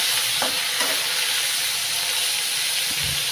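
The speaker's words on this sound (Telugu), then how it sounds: "ఇవి దగ్గరికి వేగనివ్వాలి ఇలాగా దగ్గర ముద్దలా వచ్చినంత వరకు వేయించుకోవాలి" Tomato pieces frying for wheat rava upma, a loud continuous hiss and sizzle of oil in the pan, with a few faint scrapes of stirring, heard close with no talk.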